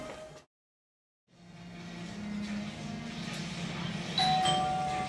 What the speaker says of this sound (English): Doorbell going right in the middle of my match.